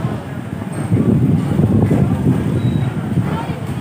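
Strong wind buffets the microphone at an outdoor market in bad weather, a rough low roar rising and falling throughout, with voices faintly mixed in.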